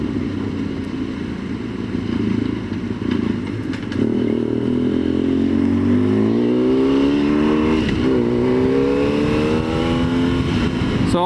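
A car in Japan pulls onto a highway, its engine note rising steadily through the gears while a constant roar of wind and road noise fills the cabin, loud and continuous throughout.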